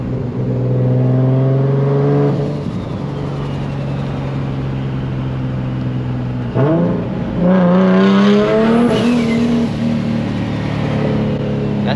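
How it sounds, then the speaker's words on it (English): A Nissan Z sports car engine revs loudly from inside while driving, a steady drone that swells, drops back and climbs again through the gears. "I just want to drive my Z one more time"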